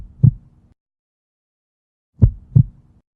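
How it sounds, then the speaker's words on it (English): Heartbeat sound effect in a film trailer: a single deep thump, a pause, then a double lub-dub beat, loud and close against silence. "I've introduced them with 2 heartbeats for every time there was a cut."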